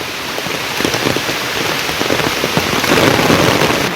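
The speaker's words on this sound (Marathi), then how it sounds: "बघा खतरनाकवाला पाऊस आला. एकदम मोठी सर आली पावसाची." Heavy monsoon rain pours down steadily in a village in Maharashtra, a dense, loud hiss of drops pattering on surfaces with no voices.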